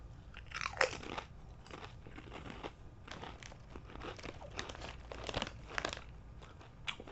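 Roasted garlic Lay's potato chips from China are bitten and chewed up close, giving repeated sharp crunches and crackling bursts in an uneven rhythm, quiet overall and with no talking.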